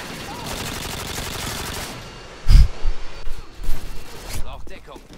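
OMP submachine gun fire in the game Modern Warfare 2, quick bursts of automatic shots in the second half, loud and close, mixed with talk.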